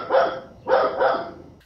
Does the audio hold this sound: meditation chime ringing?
no